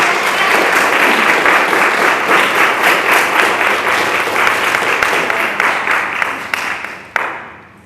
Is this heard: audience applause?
yes